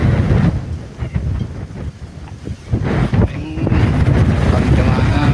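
Wind gusts buffet the microphone on a mountain trail climb up Mt. Batulao, loud rumbling surges that rise and fall in waves, with voices faintly mixed in.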